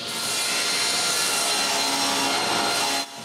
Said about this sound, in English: While the rip fence is set, I cut even more strips.